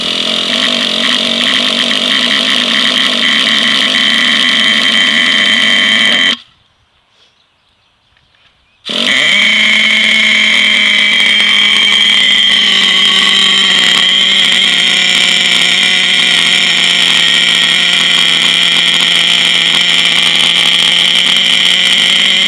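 A pull-started Traxxas TRX 3.3 nitro engine in a Revo RC truck screams with a loud, steady, high-pitched buzzing whine. It cuts out for a couple of seconds, then fires up again and runs on continuously.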